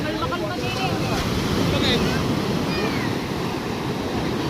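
Big ocean waves crash and churn near a small boat in heavy wind, a loud continuous roar of surf with wind buffeting the microphone.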